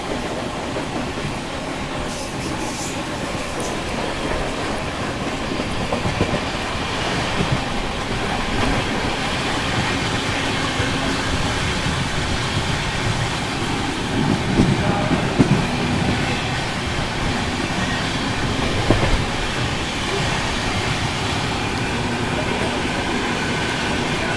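The Mumbai Rajdhani Express runs at speed past a waiting Khajuraho–Udaipur train, a steady, loud rumble of wheels and carriage noise heard from onboard with faint clicks, while someone talks quietly under it.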